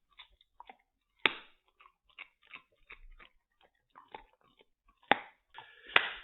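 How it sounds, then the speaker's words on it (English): A dog chews bones: sharp crunching and cracking bursts come at irregular intervals, interspersed with softer gnawing and clicking, close by and with no talking. "If you hear crunching sounds today, that is because I gave the dog's bones."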